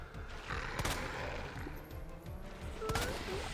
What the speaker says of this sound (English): a few pistol shots